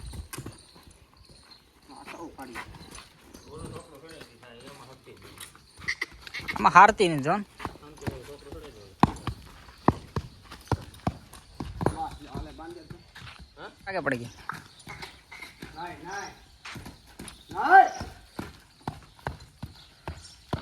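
A mare walking on hard ground makes a steady, close clip-clop of hooves with irregular beats, while people talk loudly over it throughout.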